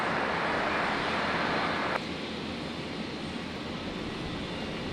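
An airplane landing at Brisbane airport gives a steady, broad, distant roar that is louder for the first two seconds, then drops to a softer, even rumble.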